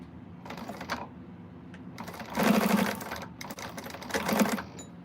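A sewing machine top stitches a quilted fabric bag in short bursts of whirring stitching, with pauses between runs, fairly quiet and close.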